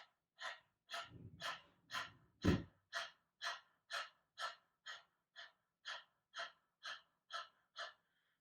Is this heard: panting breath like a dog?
yes